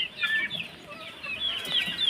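Backyard chicks peep in a busy chorus of high, thin cheeps, several birds calling close by in quick overlapping bursts.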